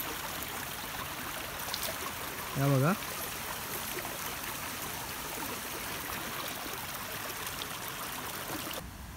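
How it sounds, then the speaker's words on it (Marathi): Hot spring water at Rajwadi Sangmeshwar in Konkan runs out steadily and with force, a continuous broadband rush that holds even throughout, with a brief voice and a short chirping tone partway through. "हे जे पाणी आहे ते सतत तिकडून बाहेर वाहत आहे आणि खूप फोर्सने बाहेर जात आहे."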